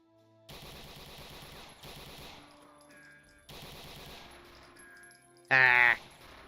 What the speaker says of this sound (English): A Strumgewehr 44. Well, you can't go wrong with an automatic weapon